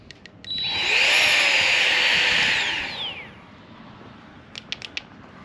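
A leaf blower with a built-in light whirs up sharply into a loud, steady motor rush for about two seconds, then fades out, followed by a few quiet clicks.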